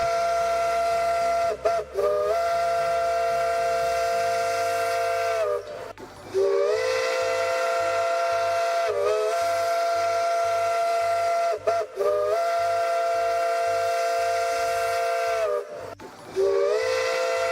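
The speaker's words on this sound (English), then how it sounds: "we'll wait for all those whistles to go" Steam locomotive whistles in the railroad game Railroader blow long and loud, several sustained blasts overlapping with a steady hiss and chuffing beneath, broken by short gaps, with no talk.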